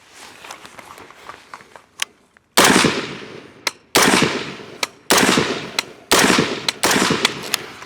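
Rifle shots from a Harrington & Richardson 723 style carbine fired offhand with iron sights, five loud, close cracks spaced about a second apart, each ringing out briefly after quieter handling noises and footsteps.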